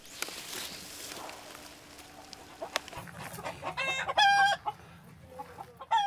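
Korean native chickens, white Baekbong and Cheonggae breeds, clucking and squawking nearby on a rural farm, with rising calls and overlapping bursts of hen chatter that grow louder toward the end.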